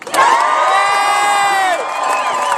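A loud crowd at an outdoor March Against Monsanto rally in Boston cheers and whoops, with high shrill voices sustained together, then fading slightly toward the end.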